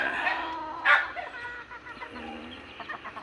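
Backyard chickens being given water cluck and call nearby, with one louder squawk in the middle, while a voice talks over them.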